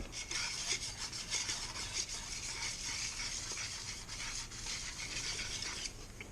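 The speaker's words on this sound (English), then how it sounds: "So I'll take and I will file this sharp, both sides" A steel file rasps steadily back and forth across a wallpaper scraper blade, sharpening both sides in a continuous close scraping with no talk.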